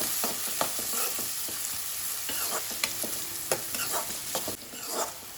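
Onions frying in a pan for a brinjal ennegai dish, a steady close sizzle with intermittent sharp clicks and scrapes of stirring, no talking.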